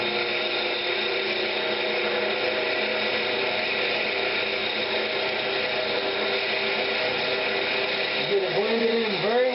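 A turned walnut box is sanded on a lathe at 220 grit, giving a steady whirring hum with a faint abrasive hiss. The sound runs continuously and close, and a voice is faintly present underneath.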